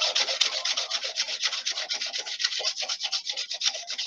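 Sandpaper rubs steadily back and forth over a PVC pipe being made into a flute, a continuous close raspy scraping in quick repeated strokes with no talk.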